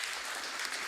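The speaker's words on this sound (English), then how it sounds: "we'd give a big clap to your Vice Chancellor" Dense, steady applause fills the hall at the 55th convocation of the Indian Institute of Foreign Trade as the crowd claps for the Vice Chancellor, loud and continuous with no voices.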